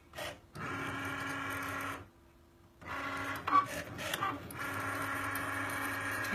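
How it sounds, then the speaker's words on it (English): A Cricut Maker cutting machine whirs and buzzes through its startup sequence nearby, motor bursts broken by a short pause and a few soft clicks and knocks before steady running resumes. "Gonna hit the flashing button on the Cricut Maker and it's preparing itself."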